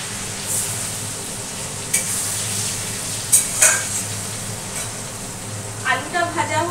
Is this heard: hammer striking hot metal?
no